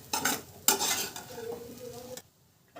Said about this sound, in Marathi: आणि व्यवस्थित ह्याला मिक्स करून घ्या